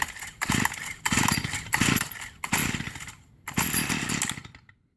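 A small pull-start engine with the choke on is cranked and kicks over, giving five loud, close bursts of sputtering, each cut off by a brief pause before it dies.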